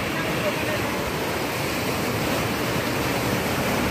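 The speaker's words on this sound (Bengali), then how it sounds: "প্রচণ্ড ফোর্সে জল যাচ্ছে" Water rushing with great force through Neora dam, a dense, loud, unbroken roar of broadband noise that holds steady throughout, with no talking.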